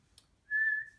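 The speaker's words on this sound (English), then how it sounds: "whistle." A single short, clear whistled note from a person, steady in pitch, sounding close and alone after a brief faint click.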